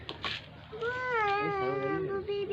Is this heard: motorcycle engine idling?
no